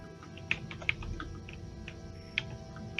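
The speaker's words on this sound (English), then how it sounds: "now there's typing sounds" Computer keyboard typing heard during an online tabletop roleplaying session, with a handful of sharp, scattered key clicks over a steady background hum; no one speaks.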